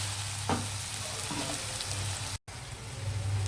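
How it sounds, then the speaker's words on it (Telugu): Ginger and garlic frying in a pan for a drumstick curry, a steady soft sizzle with a few light stirring scrapes and a brief dropout, close and fairly quiet with no talking. "ఈ అల్లం వెల్లుల్లి పచ్చిదనం పోయే వరకు కొంచెం ఫ్రై అవనిద్దాము"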